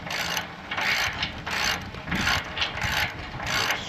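A ratchet wrench runs a fine-thread bolt with a 7/8 head and 15/16 nut into a disc harrow being modified for a quick hitch, outdoors on a breezy day. Close, rhythmic bursts of ratchet clicking repeat stroke after stroke, with no talking.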